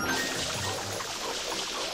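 Coins are collected in the video game Super Mario Sunshine, a soft tinkling chime that rises faintly over a steady background of game water and ambience.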